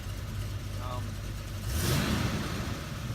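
The engine of a 1973 Mercury Cougar XR7 convertible runs nearby, a steady low rumble that swells into a brief rev at about two seconds before settling again; someone speaks over it.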